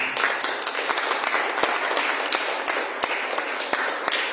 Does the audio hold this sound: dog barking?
no